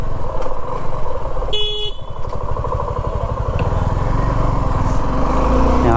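A Suzuki V-Strom motorcycle engine runs close by with a loud, steady throbbing rumble, briefly cut through by a short horn-like tone early on.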